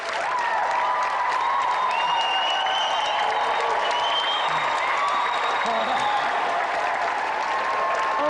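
A game show studio audience cheers and applauds after a win, a dense, loud, continuous wash of clapping and crowd noise with a presenter's voice calling out over it.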